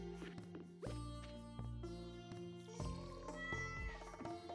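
A cat in the Stardew Valley video game meows repeatedly, several clear, close, tonal mews in quick succession over a quiet farm backdrop, with no talking.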